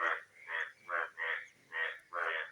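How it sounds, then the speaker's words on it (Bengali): Frogs croaking after heavy overnight rain, six rhythmic, evenly spaced croaks at moderate distance against a quiet background. "ব্যাঙের ডাকাডাকি আমার সাথে আসছে।"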